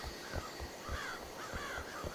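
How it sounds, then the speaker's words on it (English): Crows caw in a video game, several harsh calls in an irregular string over a steady low ambient bed, moderately loud with no talking. "Nice to see you again, crows."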